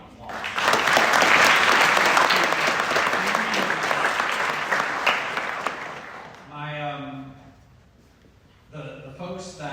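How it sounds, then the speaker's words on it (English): Loud, dense applause from a crowd of students, parents and friends at a college business pitch night, swelling for about six seconds before fading out as voices begin speaking. "let's give you a round of applause"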